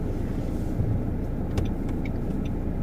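A car drives along during a driving lesson, with a steady low engine and road rumble throughout and a few faint clicks and ticks from inside the cabin.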